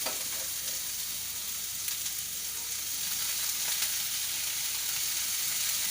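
Fried baby corn cigars stirred with lemon juice in a hot pan after the gas is turned off, giving a continuous soft sizzle and hiss with faint stirring underneath.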